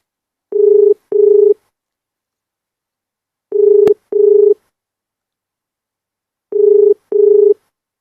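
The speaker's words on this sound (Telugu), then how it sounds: "అక్కడ సిఐ గారికి ఫోన్ చేసి మాట్లాడే ప్రయత్నం చేద్దాం" A telephone call to a police officer rings out as three evenly spaced pairs of steady electronic tones, loud and clean with silence between them and no voices.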